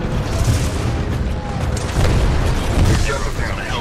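Weapons firing in the Titanfall 2 finale mission The Ark, heavy booming shots and explosions rumbling close and loud in a continuous barrage with a few stronger thumps.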